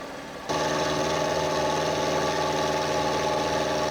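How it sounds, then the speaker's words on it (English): A milling machine roughs a dovetail channel with an end mill: after a quiet start, a steady loud whining drone of cutting kicks in abruptly and holds evenly to the end. "Back at the mill, I start by roughing a channel for the dovetail."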